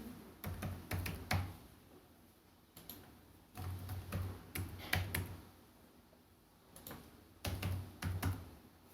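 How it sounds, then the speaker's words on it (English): Fingers type on a computer keyboard in three quiet, close bursts of quick key clicks separated by short pauses, with no talking. "type in the answers"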